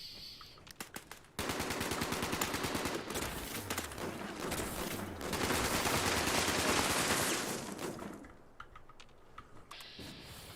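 Rapid bursts of automatic gunfire rattle in the video game Fallout 76, a dense machine-gun stream running for several seconds, with brief clicks and quieter pauses before and after.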